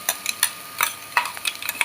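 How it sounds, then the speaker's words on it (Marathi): Leftover chapati chivda is roasted with a ground garlic and chili paste in a pan, giving soft, close scraping and stirring strokes with a faint sizzle under them. "लसूण आणि मिरचीचं आपण हे केलेलं ना मिक्सर, त्याच्यात घालायचं आणि भाजून घ्यायचं व्यवस्थित"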